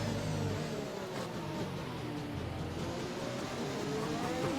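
A race car on the Portugal circuit lifts off the throttle into turn 1, its continuous engine note dropping as it eases off, loud and close with no voices.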